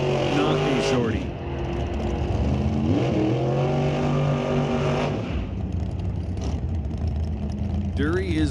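Shorty and TNT dragsters racing side by side at an NHRA Canadian drag race, engines roaring loud and continuous with rising and falling pitch sweeps, mixed with an announcer talking over the noise.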